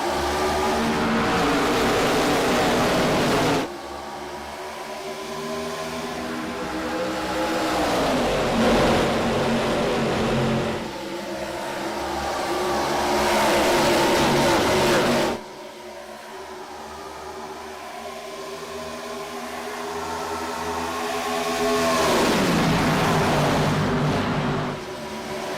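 ARCA race cars roar around the Chicagoland oval, engines swelling loudly as the pack passes, then dropping off and building again in repeated waves.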